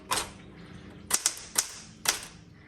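Keys striking on a red 1967 Classic 12 typewriter, repainted, during a backspace correction: one sharp clack, then a quick pair and two more spaced, crisp mechanical strikes, close and clear with no talking.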